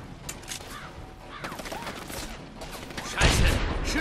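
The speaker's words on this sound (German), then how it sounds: "Scheiße, Schüsse." Bursts of gunfire from the video game Saboteur crackle in quick volleys over game effects, with a louder blast near the end.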